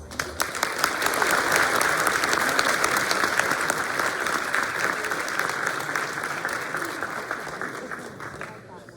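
An audience at the TechOlympics 2025 showcase applauds in a full, steady round of dense clapping that swells quickly and carries on for several seconds before tapering slightly near the end.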